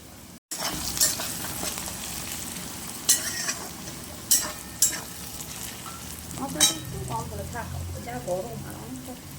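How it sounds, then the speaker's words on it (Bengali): Onions and spices fry in a pan for a mutton curry, with a continuous sizzle broken by several sharp stirring scrapes and clatters, and voices talking over the cooking. "মশলা দেওয়া হবে এবার। পেঁয়াজটা ভাজা ভাজা হয়ে গেছে।"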